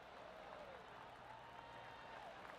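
A virtual golf crowd in PGA 2K23 applauds in a steady wash of distant clapping and crowd murmur that stays soft and continuous throughout.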